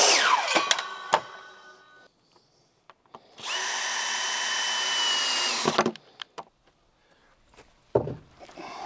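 A power drill drives screws into board and batten siding, with one sustained whirring burst of a couple of seconds, framed by scattered knocks, clicks and handling of the board and tool, no talking.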